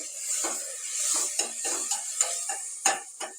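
Tomatoes sautéing in a pan for mutton gravy, a soft, steady sizzle with repeated scraping strokes of a spoon at an even rhythm, close and fairly quiet.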